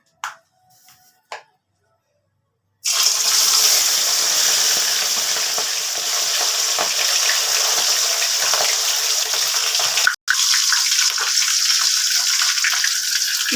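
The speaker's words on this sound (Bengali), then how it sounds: "কড়াতে তেল দিয়ে দিয়েছি, মাছগুলোতে নুন হলুদ মাখিয়ে রেখে দিয়েছিলাম। এবার মাছগুলোকে ভেজে নিচ্ছি।" Katla fish rubbed with salt and turmeric frying in hot oil in a kadai, a loud, steady close sizzle that starts abruptly after a few faint clinks, with a brief break partway through.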